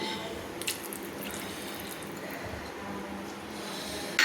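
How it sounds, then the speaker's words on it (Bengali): Chickpea cooking water being poured into a pot of chana masala, producing a continuous close watery rush and slosh that ends with a short splash. "3 বাটি জল আমি অ্যাড করে দিচ্ছি।"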